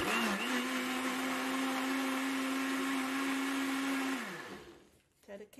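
A blender coarsely grinds grapefruit with sugar, a loud, steady motor whine that holds at one pitch for about four seconds, then winds down and stops, followed by a few faint clunks.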